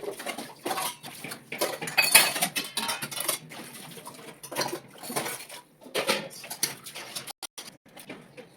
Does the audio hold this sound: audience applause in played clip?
no